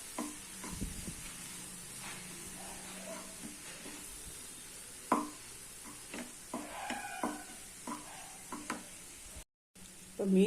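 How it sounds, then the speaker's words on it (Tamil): Cooked rice is stirred into sautéed vegetables for a vegetable masala pulao, a soft sizzle running under intermittent scrapes and clinks of a spoon against the pan, with a brief dropout near the end. "கொஞ்சம் கொஞ்சமாக போட்டு மிக்ஸ் பண்ணிக்கலாம்."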